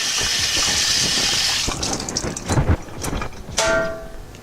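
Tap water rinses out a kitchen strainer, a close, hissing stream of running water that stops after about two seconds, followed by clattering metal knocks and a brief final splash.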